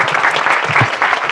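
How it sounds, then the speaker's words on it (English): Dense audience applause at a national medical conference, a brief burst of many hands clapping together, close and loud, with no talking over it. "So if we can all give a hand of applause, for Mr. Jibril Farah."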